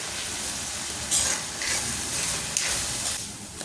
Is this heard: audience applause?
no